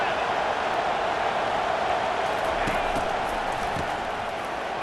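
Stadium crowd noise during a big third down in EA Sports College Football 25, a steady dense roar of fans rallying behind the defense, loud and continuous throughout, with a few faint thumps.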